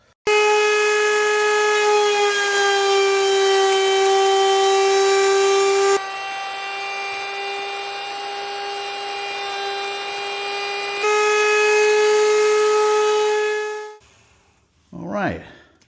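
A power saw shaves down old Adirondack chair wood, its loud steady whine holding a constant pitch with a shift midway, then cutting off abruptly near the end, followed by a brief faint noise.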